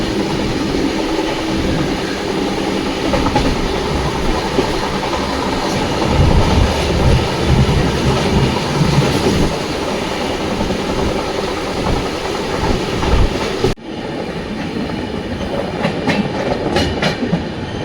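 Gandhidham–Nagercoil Express running on its rails, a steady loud rumble of wheels and carriage noise with faint clickety-clack, shifting abruptly to a slightly different, quieter texture near the end.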